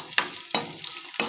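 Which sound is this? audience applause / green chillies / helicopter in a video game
green chillies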